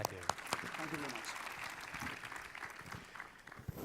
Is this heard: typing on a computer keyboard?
no